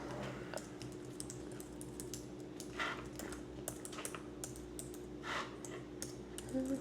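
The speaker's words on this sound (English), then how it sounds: "now you're going to type in your personal information" Typing on a computer keyboard to enter personal details, a steady run of soft key clicks close by over a low constant hum, with no one talking.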